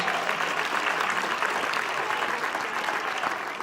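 Audience applause after a motivational talk, a dense, even wash of many hands clapping together, steady and sustained at moderate distance with no break.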